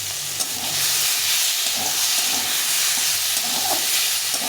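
Green chillies hit a pan of softened tomatoes and fry with a loud, steady hissing sizzle, broken by occasional stirring scrapes, with no speech.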